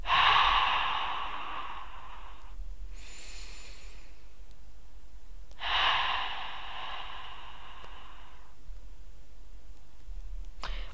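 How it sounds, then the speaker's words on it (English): Two long, heavy breaths, each a slow noisy exhale separated by a pause, with a fainter breath between them, close and otherwise quiet. "Heavy, serious breathing."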